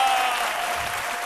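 An audience at a live stand-up comedy show applauds loudly, a dense, continuous wash of clapping from a large crowd.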